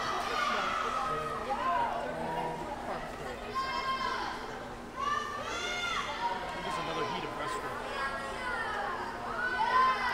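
A crowd cheers and shouts at a girls' high school swimming relay race in an echoing indoor pool, with a steady buzz of voices, high whoops rising and falling, and an announcer talking over the noise.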